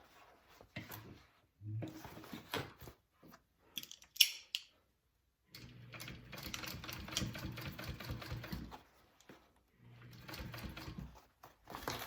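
A sewing machine top stitches along a bag's zipper in bursts of rapid mechanical clatter, with pauses between runs and a few short knocks as the fabric is handled.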